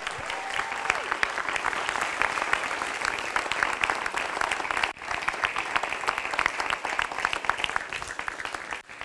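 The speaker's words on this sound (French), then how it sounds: "je vais vous demander de faire un tonnerre d'applaudissements pour vous parce qu'on est plus de 300 ce soir." A crowd of about 300 at a municipal election campaign launch meeting in Villeneuve delivers thunderous, sustained applause, a steady dense clatter of many hands heard from within the hall for the whole stretch.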